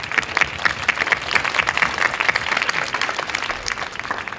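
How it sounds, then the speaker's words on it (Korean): A church congregation applauds during a Korean university-group sermon, with loud, dense clapping sustained throughout and no talk over it. "하나님께 영광의 박수"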